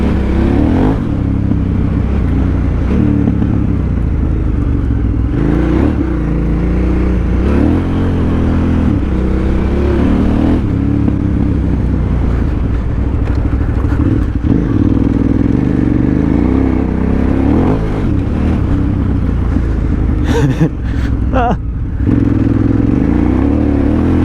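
A KTM 990 adventure motorcycle revs hard as its rear tire spins in loose sand, a loud, steady engine roar with surging throttle blips and some clatter running through the whole stretch.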